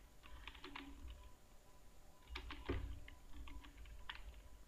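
Computer keyboard typing with irregular bursts of key clicks, fairly quiet and steady, with no voices.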